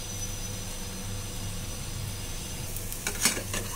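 A sprouts chilla cooks on a hot pan with a steady, soft sizzle throughout, ending with a few brief clatters near the close.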